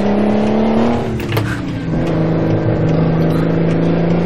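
Heavy truck engine in American Truck Simulator droning at a steady low pitch, briefly dipping and straining as it fails to rev up, loud and close throughout.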